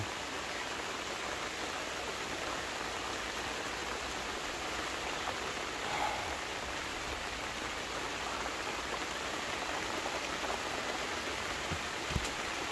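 Steady, soft hiss of light drizzle falling, a gentle even patter with no voices, constant throughout.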